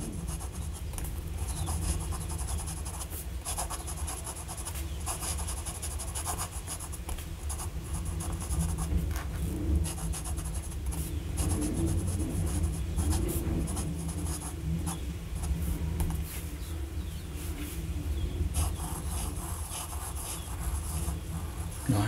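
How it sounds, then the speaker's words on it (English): A Jinhao 80 fountain pen writing on paper, producing a continuous soft scratchy rasp of nib strokes, close-up and fairly quiet, with small pauses between words. "Now let's just do some writing."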